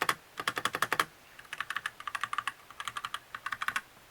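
Fingers type on an AULA F2088 mechanical gaming keyboard with non-clicky switches, quick bursts of crisp key clacks, several runs of keystrokes separated by short pauses, fairly quiet and close.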